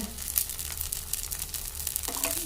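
Oil poured onto a vegetable dosa on a hot pan sizzles steadily, a close, continuous crackling hiss that holds for a couple of seconds with no talk over it.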